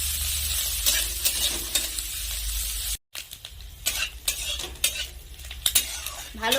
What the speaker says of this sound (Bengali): নেড়ে চেড়ে খুব ভালো করে ভেজে নেব।